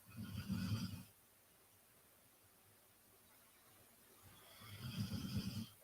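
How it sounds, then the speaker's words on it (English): Diego the horse snores while lying on his side, two long, deep rasping breaths close by, with a quiet hissing pause between them and no talk. "Diego doesn't usually snore a whole lot"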